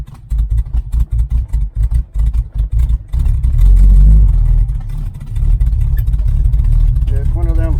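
A 1980 Camaro Z28 engine running in gear, first a choppy pulsing rumble, then a loud, steady, deep drone close to the listener, with people talking over it.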